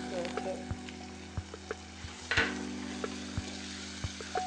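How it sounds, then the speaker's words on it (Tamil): Onions sautéing with ground tomato sauce in a pan, a steady low sizzle broken by regular knocks and scrapes of a spoon stirring, close and fairly quiet with no talking. "இந்த பச்சை வாசனை போற வரைக்கும் வெங்காயம் நல்லா வதக்கணும்"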